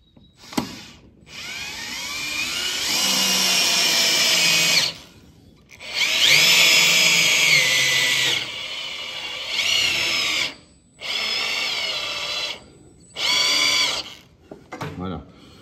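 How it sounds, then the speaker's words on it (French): Power drill driving a lag screw fitted with two small washers into a wooden barn post, several loud whirring bursts of varying length separated by short pauses, some slowing under load, close by. "Donc là, notre tire-fond avec 2 petites rondelles derrière. Et l'idée, c'est de le visser droit"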